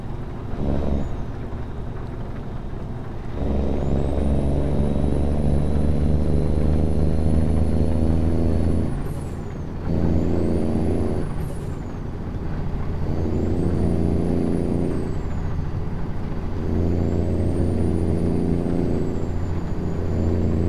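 A heavy Cummins diesel truck engine in a truck-driving video game drones steadily, rising and falling as it revs through gear changes, with a brief air-brake hiss between pulls.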